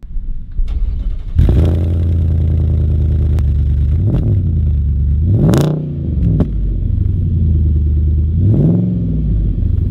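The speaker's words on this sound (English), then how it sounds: "Here is some obligatory sound of the exhaust startup and what it sounds like in action." V8 car fitted with a Manta exhaust fires up with a loud start and settles into a steady rumbling idle, then gives three sharp blips of revving, close and loud.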